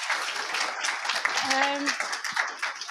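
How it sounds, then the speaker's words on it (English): An audience at a live Mayor's Question Time in Stockport applauds Andy, a continuous patter of clapping with a short voiced sound rising briefly in the middle. "So should we give Andy a round of applause?"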